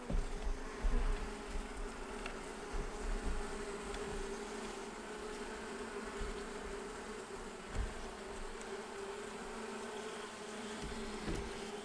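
Honeybees at an open hive hum in a steady, dense buzz close by, with individual bees droning past now and then and no talking.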